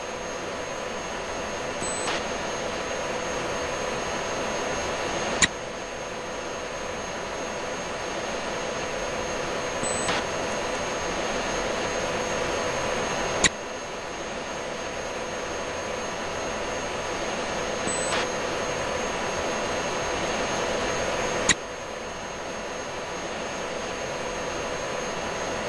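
Jet aircraft engine roaring steadily at takeoff in the Falcon BMS flight simulator, a continuous loud broadband rush with a few brief clicks and level shifts, no voices.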